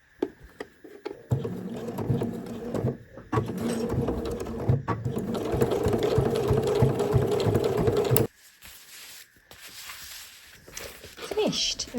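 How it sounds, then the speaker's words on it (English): A sewing machine stitches binding down on a fabric zip pouch, a steady mechanical whirring run that starts and stops in bursts, close by, with a person talking over parts of it. "then we're just going to stitch the binding down to finish"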